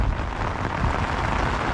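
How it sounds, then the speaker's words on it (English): Heavy storm rain pours onto a tent in a dense, steady hiss and patter, close and loud throughout, with no voices. "Pretty significant amount of rain."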